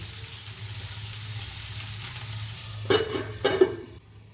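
Mixed leafy greens frying in a pan, with a soft steady sizzle under a low hum, then a few louder bursts of stirring and scraping near the end, heard alone without speech.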